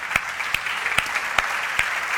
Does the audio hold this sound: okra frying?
no